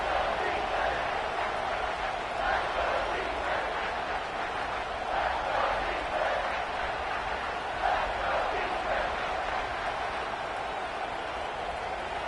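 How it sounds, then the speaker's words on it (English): A home football crowd at an Oregon versus Notre Dame game roars in a steady, loud, continuous wash of cheering that never lets up across the stadium. "Man, this crowd really affecting the football game."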